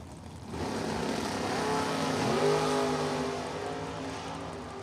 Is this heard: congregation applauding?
no